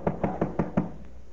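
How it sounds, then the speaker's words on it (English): Knocking on a door in an old radio comedy, five evenly spaced raps in quick succession followed by a faint sixth, moderately loud and alone. "You want to answer the door, Lou, or not?"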